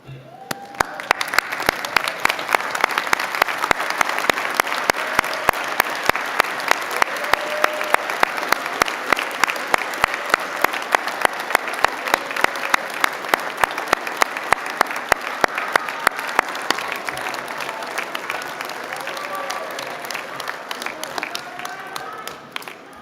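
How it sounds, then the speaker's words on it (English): Sustained applause from an audience at a graduation ceremony, dense rapid clapping held evenly for about twenty seconds before thinning out near the end. "Graduates, please stand up and join me in giving them the applause they so deeply deserve."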